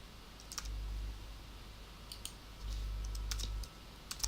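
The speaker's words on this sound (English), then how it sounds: "So we go back into this box and we type" Typing on a computer keyboard, a few sparse, faint clicks scattered across the clip over a low background hum.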